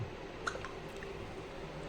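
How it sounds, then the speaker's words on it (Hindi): Spinach leaves being rinsed in a bowl of water give off soft, quiet squishing and dripping sounds, with a brief sharper splash near the start and a low, steady wet background. "अब फटाफट से कर लेते हैं इसको वॉश"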